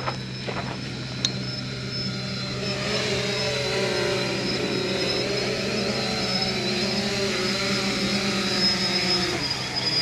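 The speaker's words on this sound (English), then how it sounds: "Now we gotta make sure the drone comes back." A fishing drone flies back over the Texas City Dike, its steady mid-pitched motor whine holding for several seconds against wind and waterside noise.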